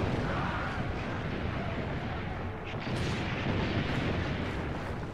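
Dense, continuous rumble of cannon fire and booming blasts during an ambush in Assassin's Creed: Brotherhood, loud and sustained with no clear gaps between shots.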